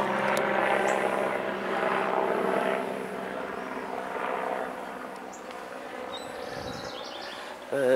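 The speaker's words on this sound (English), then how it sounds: "This time it's a helicopter." A helicopter passes over a backyard garden, its steady rotor and engine drone loud and broad at first, then easing slightly as it moves on, with faint birdsong in the background.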